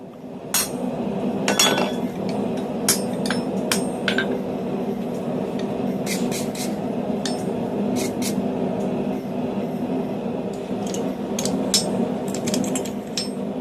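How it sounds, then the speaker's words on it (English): A blacksmith hammers a maker's mark onto a steel tong blank: sharp metallic strikes ring out in uneven clusters, some in quick pairs, over a steady background hum from the shop. "Here I'm putting my mark onto one tong blank"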